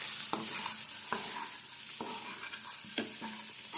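Pieces of taro tossed with chili powder are stirred in a sizzling pan, the spatula scraping in irregular strokes with a few distinct knocks against the metal over a steady frying hiss.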